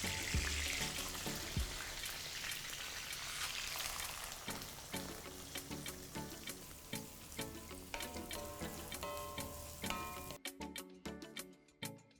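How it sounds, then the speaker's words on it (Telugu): Ingredients frying in oil in a kadai for Telangana-style mutton fry, a steady close sizzle with light clinks and stirring ticks throughout, no voices. "ఒక కడాయి పెట్టేసుకొని అందులో 2 టేబుల్ స్పూన్ల ఆయిల్ని పోసుకొని ఇవన్నీ అందులో గోలించుకోవాలన్నమాట"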